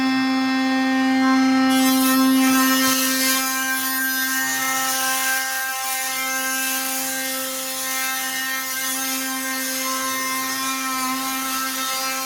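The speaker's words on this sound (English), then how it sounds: "Then I'm going to raise the mill up, turn it on." A power rolling mill runs on a metal strip, giving a loud steady mechanical drone with a strong constant hum and a gritty grinding texture that holds throughout, no voices.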